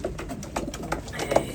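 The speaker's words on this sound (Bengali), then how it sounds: "দেখেন এই কত সুন্দর সুন্দর কবুতর।" Pigeons in a pigeon loft give soft, low cooing calls in short repeated bursts, fairly close and moderately quiet against a steady background murmur.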